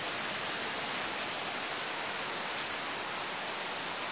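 Downpour over a flooded street in greater Rio de Janeiro, an unbroken roar of rain spattering on water and pavement, close and constant, with no one speaking.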